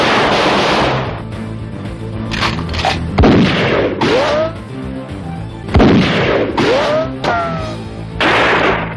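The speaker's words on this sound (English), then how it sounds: "That is a great way to go out, just shooting the air." Gunshots fired into the air in the low-budget action movie Samurai Cop, loud booming reports spaced a few seconds apart, with echoing tails and film soundtrack noise around them.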